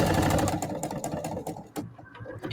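A sewing machine backstitching runs with a steady, close mechanical whir and rhythmic needle clatter, which eases and stutters near the end as the stitching reverses.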